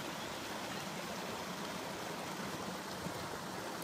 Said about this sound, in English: This is further up the creek